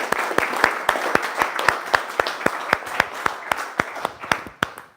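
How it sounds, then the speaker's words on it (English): A modest round of audience applause at a roundtable evening event, with individual claps standing out in a quick, fairly even rhythm that carries on for about five seconds, with no talking over it. "Well, one more round of applause,"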